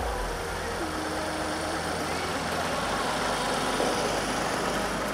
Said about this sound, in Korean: 제가 시동을 끄기 전에 엔진 소리 카메라에 담아드리도록 할게요